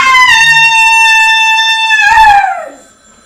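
A telephone rings once with a loud, steady electronic tone that holds for about two seconds, then bends downward and fades, heard close and alone.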